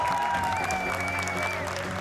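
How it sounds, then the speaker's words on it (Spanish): Studio audience applause on a Spanish-language game show, a steady wash of clapping for about two seconds with a sustained musical tone and hum running underneath. "¡Vamos! Le damos un aplauso."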